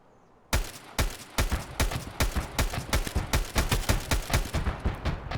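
A mounted machine gun in Escape From Tarkov fires a rapid, sustained burst. The shots are loud, sharp and evenly spaced, close and dominant with no talk.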